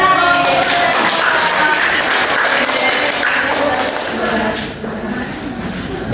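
An elementary school class applauds during a science lesson on eclipses. A loud, steady wash of many hands clapping at once fills the room, with voices mixed in, and it eases off slightly toward the end.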